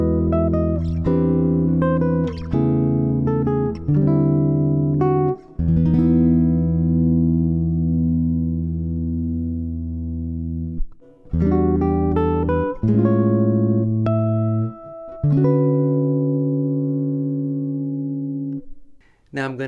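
An Enya NEXG 2N nylon string acoustic guitar plugged straight into an audio interface, plucked chords and single notes ringing out in phrases with sustained decays, clear and close with no talking.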